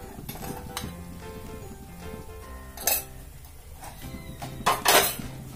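A spoon clinks and scrapes against a metal cooking pan while turmeric and coriander powder are stirred into chana dal, with sharp irregular clanks and a few louder knocks near the end.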